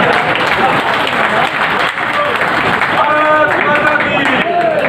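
Audience applause at a Hindi poetry gathering (kavi sammelan), a dense steady clapping crowd heard close and loud throughout, with voices and some calls mixed in underneath.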